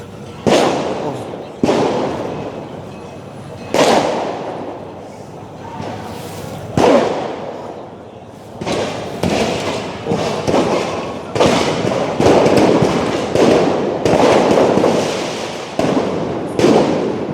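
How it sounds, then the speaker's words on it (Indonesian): Firecrackers burst again and again at night in front of the Mobile Brigade headquarters gate on Jalan Kwitang, Jakarta, sharp cracks and thuds arriving irregularly, some loud and close, others further off, with voices murmuring underneath. "itu sepertinya suara petasan lagi"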